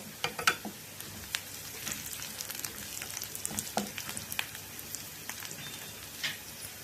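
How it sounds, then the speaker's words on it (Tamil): Onions sauté in a pan for sambar, giving a soft, continuous crackle with scattered sharper pops and stirring. The sound is close and fairly quiet, and no one speaks. "இது அப்படியே நல்லா வதக்கி எடுத்துருவோம் வெங்காயம் பாதி நல்லா வதக்கிட்டுது"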